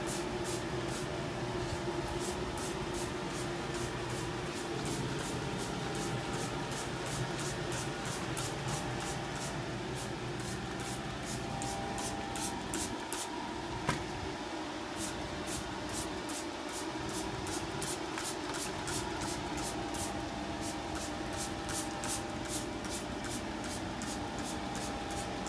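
Soft, repeated spritzing from a spray bottle, short regular bursts over a steady low background hum, fairly quiet and continuous throughout.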